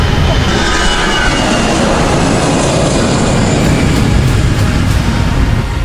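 An airplane accelerates down the runway at Gibraltar airport with a loud, dense, broadband engine roar that holds steady for the whole clip, close and continuous.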